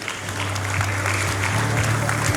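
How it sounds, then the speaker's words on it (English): Crowd at a national resilience forum giving a warm round of applause, a dense, continuous wash of clapping held at a steady loud level over a low hum, with no clear voices on top. "Let's give her another warm round of applause,"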